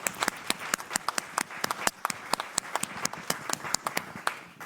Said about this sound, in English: a big round of applause once again for all of our panelists